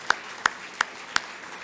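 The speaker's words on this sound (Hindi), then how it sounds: "राजीव भाई के लिए हम लोग एक बार ताली बजाएं।" Four slow, sharp hand claps, evenly spaced and fairly faint, come from the audience at a health lecture as a speaker is welcomed. Only a few people seem to join in.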